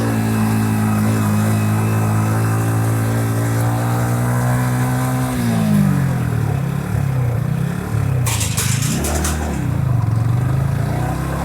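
A car engine straining up a steep mountain road from Bandarban to Thanchi drones loudly and steadily, its pitch holding then dipping and wavering as the load shifts, with a brief rattling burst near the end and no talk.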